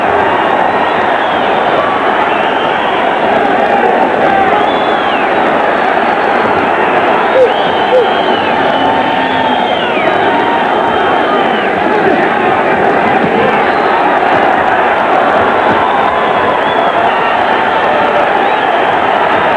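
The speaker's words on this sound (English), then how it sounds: "The crowd now is aroused as Benavides puts on a rally against" A large crowd roars and cheers continuously at an amateur boxing dual meet between the USA and Cuba, a dense, sustained wall of noise with excited voices mixed in.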